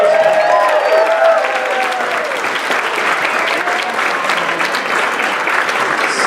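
An audience applauds loudly at a live stand-up comedy show, dense sustained clapping with a few cheers, steady throughout.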